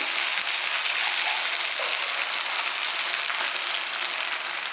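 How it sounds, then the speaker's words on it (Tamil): Steady hissing and sizzling as hot water is poured into a pan while making rava khichadi, continuing evenly throughout with no talking. "சுடுதண்ணி சேர்த்துக்கலாம்"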